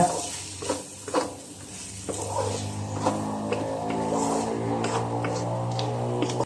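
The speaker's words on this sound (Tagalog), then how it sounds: "Again, haluin natin guys. Para masunog. Dumikit na." Spaghetti sauce stirred in a pan for a Christmas meal, a steady sizzle and scrape of a spoon against the pan running throughout with occasional louder knocks, close and continuous, with no talking.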